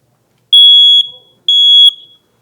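A smoke alarm sounds during a test-button press, giving two loud, shrill electronic beeps of about half a second each, separated by a short gap, with no other sound around them.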